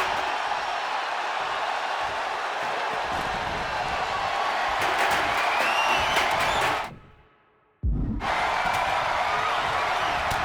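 A crowd in the wrestling video game WWE 2K25 cheers and roars steadily at a match, loud and continuous. It cuts to near silence for about a second before the noise bursts back in.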